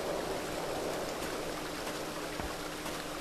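Water flows steadily in the video game Satinavs Ketten, a continuous, moderately quiet stream-like rush with a few faint clicks over it and no voices.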